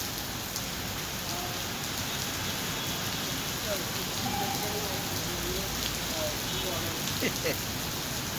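Heavy rain falls on 42nd Street at Madison Avenue in New York, a steady, dense hiss with scattered drips and splashes that runs unbroken throughout, with faint voices in the background.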